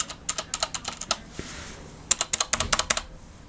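Quick, crisp keystrokes on a Logitech G610 mechanical keyboard with red switches come in two short bursts of typing, close and moderately loud, with a brief pause between them.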